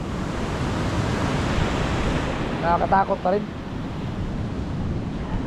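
The rising tide sends sea waves washing ashore in a continuous, roaring surf, roughened by wind buffeting the microphone. A person speaks briefly midway through over the steady rush of water.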